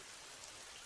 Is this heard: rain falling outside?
yes